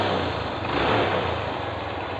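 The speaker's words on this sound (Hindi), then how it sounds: "तो गाइस, फाइनली बाइक स्टार्ट हो चुकी है।" A 2007 TVS Star City motorcycle engine running steadily after a half kick start, a continuous close buzzing idle with no pauses and no talking.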